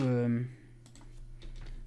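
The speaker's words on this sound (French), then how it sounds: "excusez-moi si vous entendez vraiment fort le clavier" Computer keyboard keys clicking close to the microphone in quick, light taps, faint and steady, as a voice fades out at the start.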